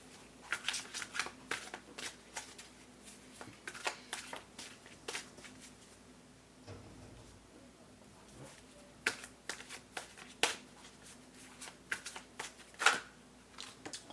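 Oracle cards being shuffled by hand in a quiet room, a long run of soft riffling flutters and papery slaps repeating unevenly, close and alone without any voice.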